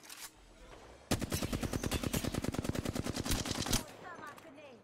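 Rapid automatic gunfire in an online battle royale shooter, one dense burst of about three seconds with a short shot before it, loud and close.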